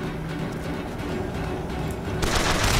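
Rapid machine gun fire in the first-person shooter BioShock Infinite, a dense rattling burst that grows louder and harsher toward the end, with no talk over it.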